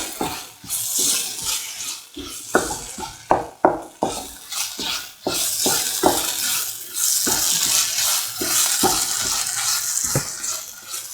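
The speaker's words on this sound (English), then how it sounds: "1 spoon of fennel powder. Mix. Mix thoroughly." A spoon beating fennel powder into a mixture in a bowl, with rapid, irregular clinks and scrapes against the bowl, close and fairly loud, and a wetter, steadier swishing toward the end.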